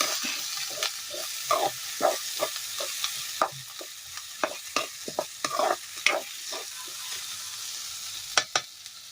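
Curry leaves, with onion and tomato, frying in a pan for a Kerala curry, a spoon stirring in repeated scraping strokes over a soft sizzle, close and clear with no voices.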